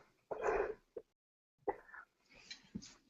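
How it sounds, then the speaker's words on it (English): A single sharp sneeze close to the microphone during a casual chat about a Clippers–Thunder basketball game, followed by a short gasp and quiet murmured voices afterward. "That's a karmic sneeze right there"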